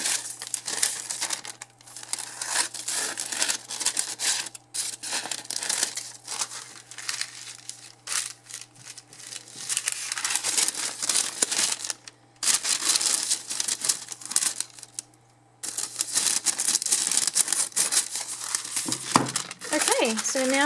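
Paper being crumpled and handled to fit on a kitchen towel for a wet palette, with close, loud crinkling that comes in bursts with short pauses; a voice talks over some of it.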